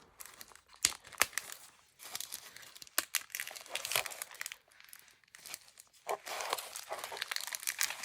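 Packaging material from a thrifted craft-supply package is peeled back by hand, giving bursts of crinkling and tearing rustle in uneven clusters, close and fairly loud, with brief pauses between handlings.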